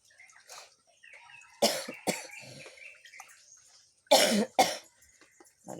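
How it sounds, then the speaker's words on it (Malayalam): A person with a fever coughs in sharp bursts, two pairs of harsh coughs separated by quiet stretches with faint background clatter and running water. "നല്ല ചുമയാണ്."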